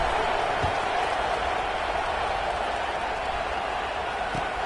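A stadium crowd at a college football game between Notre Dame and Georgia murmurs and roars steadily through a kickoff, a dense, even wash of noise with no single voice standing out.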